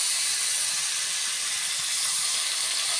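Water added to a hot pan on a clay stove during fish curry cooking produces a steady, loud, bright sizzling hiss that holds evenly for the whole stretch.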